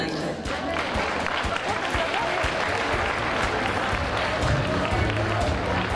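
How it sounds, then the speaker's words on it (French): A crowd applauds continuously at the Miss Beaujolais 2011 pageant, dense clapping filling the whole stretch at an even, strong level. "Vous pouvez les applaudir parce qu'ils font un travail difficile quand même"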